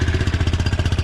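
A small scooter engine, a Honda Reflex or Suzuki FA50, firing up and running with a rapid, steady pulsing chug, loud and close, with no voices over it.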